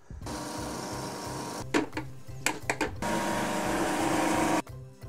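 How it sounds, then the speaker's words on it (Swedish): A blender mixes cashew cream with black pepper until smooth. A steady, close motor whir is broken by a short stretch of stop-start pulses, then settles back into a continuous hum before cutting off. "Och sen fortsätter du mixa till en slät, hyfsat slät"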